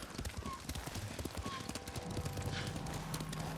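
Steady horse hooves clip-clop at a walking pace in the video game Ghost of Tsushima, over a busy background of ambient noise, close and continuous.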